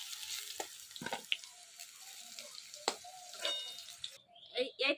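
Potato pieces fry in hot oil until reddish-brown, giving a soft, steady sizzle broken by scraping stirs and a few clinks, fairly quiet, with people talking nearby.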